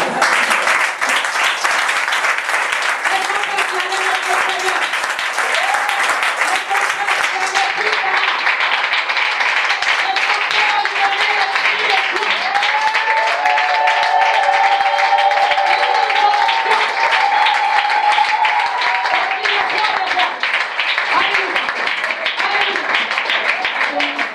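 Congregation in a church applauding the king of kings, sustained dense clapping for the whole stretch mixed with crowd voices and cheering, with some tonal voices rising in the middle.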